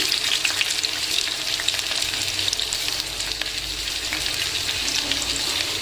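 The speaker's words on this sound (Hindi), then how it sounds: "अब इस सिके हुए ब्रेड को हम इसमें डाल देंगे।" Toasted bread slices frying in hot oil for bread pakora, a bright continuous sizzle and crackle that stays loud and even throughout, close by with no talking.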